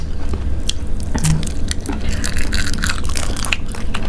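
Thai fermented pork sausage (naem) being bitten and chewed up close, wet crunchy crushing and squishy mastication sounds repeating steadily for several seconds.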